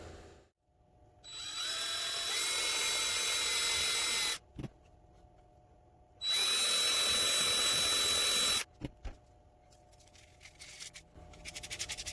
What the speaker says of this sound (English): we're going to drill out the eye sockets